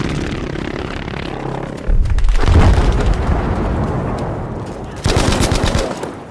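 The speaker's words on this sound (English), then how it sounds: "the devastating blast of a V1 rocket" Heavy gunfire and booming blasts, including a V1 rocket explosion, in Battlefield 5 Grand Operations; loud sustained rattling with two sudden explosive onsets, the second near the end.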